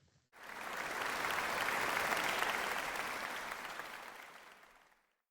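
Audience applause at a tech festival talk bursts in suddenly, holds as a thick, even wash of clapping for several seconds, then fades away, with no voices.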